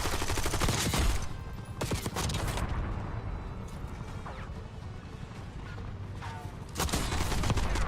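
Rapid bursts of gunfire erupt in a shooter video game, with sharp clustered cracks at the start and end and scattered impacts and smashes between, loud and close with no voices.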